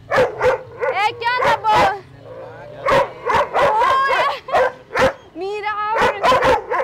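A small dog barks in quick yipping bursts and whimpers between them, close and loud, while people talk nearby at a nighttime float parade.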